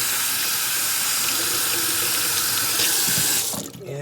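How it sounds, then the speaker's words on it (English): Running kitchen faucet with hands being rinsed under the stream, a steady close splashing hiss of water that stops abruptly near the end, with no talk. "try to remember to rinse under your fingernails as well as you go"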